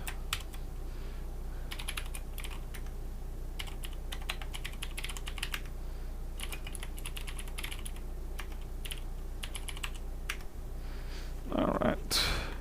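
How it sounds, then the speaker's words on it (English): Typing on a big computer keyboard at a repair bench, bursts of quick clicky keystrokes near the mic, pausing in places, over a steady low hum. "Let's get the big fat keyboard out."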